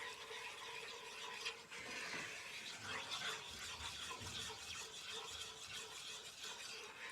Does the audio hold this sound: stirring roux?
yes